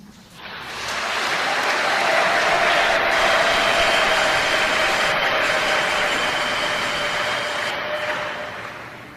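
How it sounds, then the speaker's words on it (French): A church congregation applauds during an archbishop's Christmas Eve homily in Lubumbashi, a dense, steady wash of clapping that swells quickly and holds for several seconds before easing off. "Ça mérite des applaudissements."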